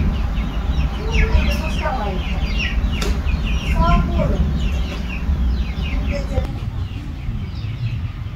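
Backyard chickens cluck and call in a busy, overlapping stream with the odd wing flap, close and fairly loud over a low outdoor rumble as a storm approaches.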